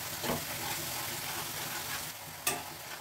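Tomato paste with cumin, garam masala, turmeric and salt sautéing in a cup of hot oil, a steady close sizzle and crackle throughout, with a sharp stir or utensil knock near the end and no talking.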